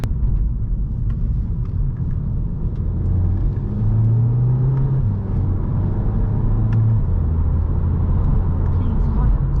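A Volkswagen Scirocco's engine drones steadily from inside the car while driving, a loud continuous rumble with a rising whir midway, and no speech over it.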